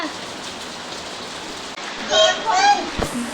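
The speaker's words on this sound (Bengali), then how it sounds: "যাস না, বৃষ্টি পড়ছে" Steady rain falls outside, a dense, even hiss. In the second half a voice and other close, brief sounds rise over it.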